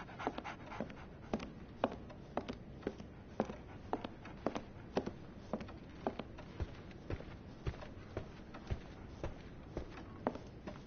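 A dog in a Sherlock Holmes video game pants quickly and rhythmically in short breathy bursts, quiet and close, with soft tapping sounds mixed in.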